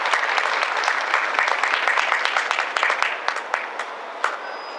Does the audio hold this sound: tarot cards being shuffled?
no